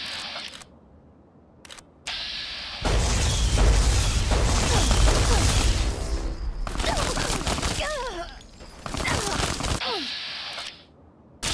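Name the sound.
Tesla cannon firing in Fallout Tale of Two Wastelands video game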